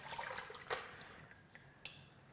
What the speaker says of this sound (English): we'll pour the sugar water in here, the sugar syrup in here